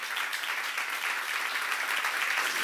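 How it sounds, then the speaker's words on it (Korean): Steady applause from a church congregation during a seminar, many hands clapping in an even, continuous roar that holds at one level from start to finish, with no talking. "박수 한번 쳐보세요"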